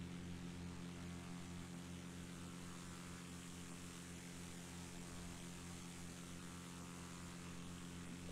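A Beechcraft Bonanza propeller plane climbing after takeoff with the gear retracting, heard as a simulated engine drone in the X-Plane 11 flight game: a steady, even propeller hum with a low pulsing throb, constant and uninterrupted, no voices.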